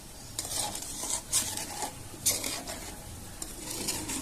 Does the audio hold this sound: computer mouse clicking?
no